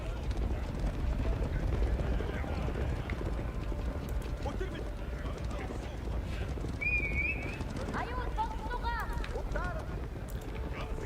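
Horse cavalry gallops in Age of Empires 4, a steady dense rumble of hooves filling the background throughout, with game sound effects and faint calls layered over it.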